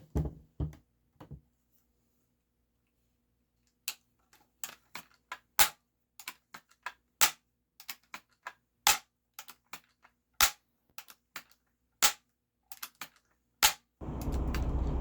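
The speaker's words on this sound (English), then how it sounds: "This air rifle does have a very smooth pumping stroke." A Daisy SG22 air rifle being pumped, sharp mechanical clacks and clicks in quick irregular bursts after a quiet start, close and crisp, ending in a burst of steady noise.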